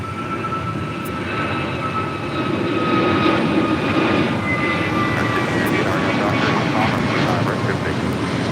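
A Southwest Airlines Boeing 737-700 arriving from Phoenix lands at LAX, its engines a loud, steady roar that swells slightly and holds throughout.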